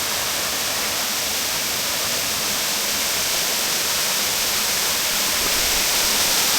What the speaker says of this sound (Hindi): ये वाटरफॉल के करीब देखो वाटरफॉल बिल्कुल मेरे पीछे